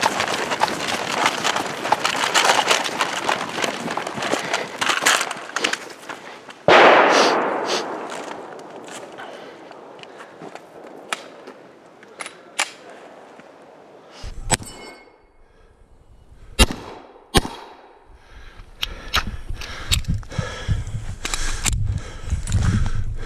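Rifle shots on an outdoor shooting range: a few sharp, loud reports ring out with metallic clangs over steady background noise and faint voices.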